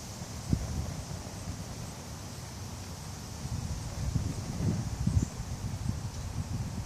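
Wind blows steadily outdoors during a cotton ball and PET ball burn test, a soft gusty rush with occasional microphone buffeting and rustling, with no talk.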